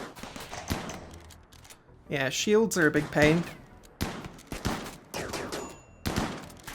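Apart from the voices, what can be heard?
charge rifle gunfire in RimWorld video game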